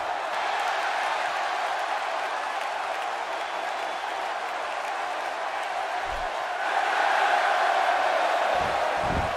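A large arena crowd in WWE 2K16 cheers and applauds continuously as a steady roar, swelling louder toward the end.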